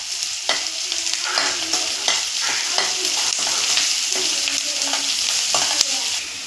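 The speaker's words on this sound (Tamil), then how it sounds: "வெங்காயம் நல்லா வதங்கணும்" Onions sauteing in a pan for a vegetable kurma, with a steady sizzle throughout and repeated scraping strokes of a spoon stirring them at close range, no voices.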